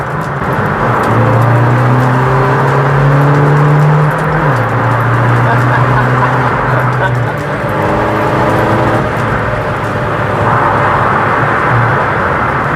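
A Seat Ibiza FR 6L PD130 diesel track car on sticky tyres is driven hard through a roundabout. Its engine drones loud and close, with the pitch climbing and dropping as it revs, and talk is heard over it.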